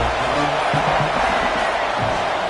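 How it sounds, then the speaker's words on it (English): A football stadium crowd at a Florida State game makes a loud, sustained roar of cheering and shouting, a dense continuous wall of many voices. "This crowd knows when to bring it."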